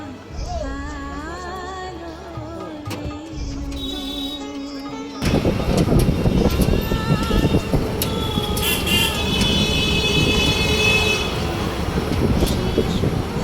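Open lorry carrying a group of people to fetch a Durga idol for Mahalaya rolls along a road, first a lighter engine hum with voices and music, then a sudden louder rush of wind and road noise with horn toots.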